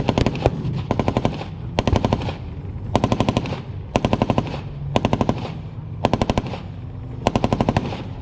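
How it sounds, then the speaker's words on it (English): A simulated artillery barrage on an enemy position during a tank battle reenactment at a regiment museum: loud, rapid bursts of popping blasts repeat about once a second, each a tight volley of sharp cracks with no talking. "And artillery barrage on the Iraqi position."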